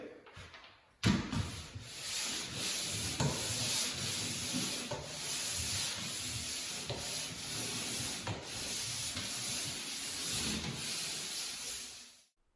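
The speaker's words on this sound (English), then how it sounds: "we just used a little sanding pad" Continuous rough rubbing of a sanding pad scraping a surface, a steady close-up abrasive hiss with small strokes, starting abruptly and stopping at the end.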